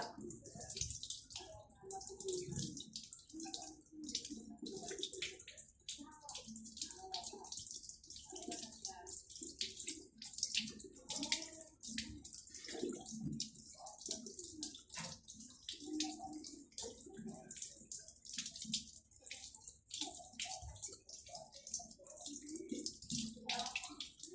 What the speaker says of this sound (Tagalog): last na lang po itong buto-buto natin yung hugasan